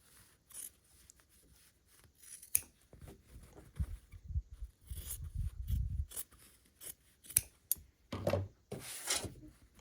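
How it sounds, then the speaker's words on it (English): Scissors trimming quilt fabric seam allowance on a quilt block, a series of short crisp snips and slicing strokes, close and fairly soft, irregular with pauses between cuts. "we'll trim away, leaving a 1/4 of an inch seam allowance"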